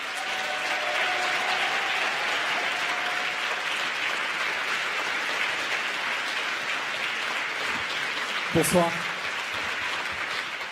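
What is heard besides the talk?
applause and cheering at political rally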